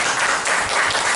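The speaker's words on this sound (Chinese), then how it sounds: "我们再次给他们掌声。" Audience applause at a tribal cultural camp, a steady wash of clapping hands filling the short stretch without any talking.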